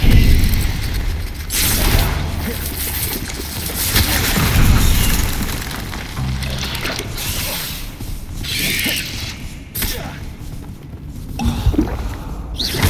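Spell blasts from Confringo casts in Hogwarts Legacy burst repeatedly amid chaotic combat, with loud booming explosions and crackling magical impacts layered over clanking mechanisms. Heavy, continuous action over about thirteen seconds, with no spoken voices.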